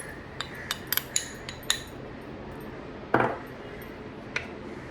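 Milk solids being mixed into a homemade skincare paste of peel powder, water and honey: a series of light spoon-on-bowl clinks and taps, close and fairly quiet, with one louder scrape near the end, no talking.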